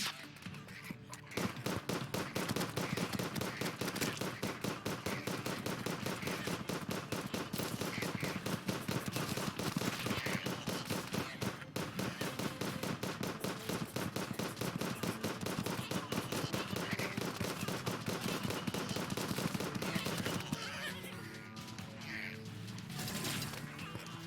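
Ballista sentries in the Terraria video game fire continuously during a pre-Hardmode event, a loud, dense stream of rapid mechanical shots and impacts layered with game music, easing off briefly near the end.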